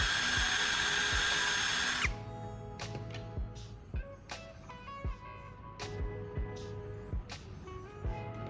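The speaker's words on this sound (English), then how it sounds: "I'll then drill 2 new holes into the top of the charger casing" A power drill whines loudly through plastic charger casing for about two seconds, then a series of short clicks and taps follow as the work continues.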